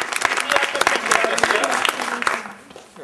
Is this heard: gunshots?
no